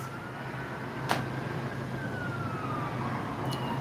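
Faint, distant emergency vehicle siren, a thin wailing tone that slowly falls in pitch over a steady outdoor background hum, with a sharp click or knock near the middle and no talking.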